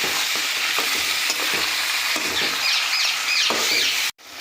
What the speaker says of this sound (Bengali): এবার এই চিকেনটাকেও আমরা হালকা ভাজা করে নেব।